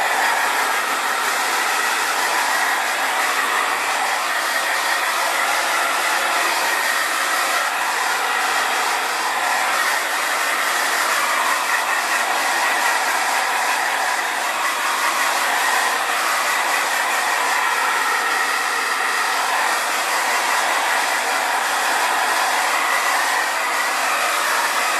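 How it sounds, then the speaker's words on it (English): A hair dryer blow-dries teased hair sprayed with wet hairspray, its loud steady airy whine running unbroken for about 25 seconds close to the microphone. "I'm just going to blow dry a little bit just to kind of lock in the tease we just did"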